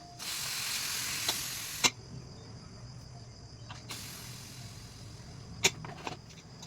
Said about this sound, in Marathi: तर चला कुकरचं झाकण ओपन करू आपण आता